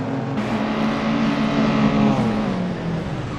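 A 1960s touring car races in Assetto Corsa on the Preluk 1974 circuit, its engine holding a steady, loud buzzing drone with slight shifts in pitch as it churns along. No one speaks over it.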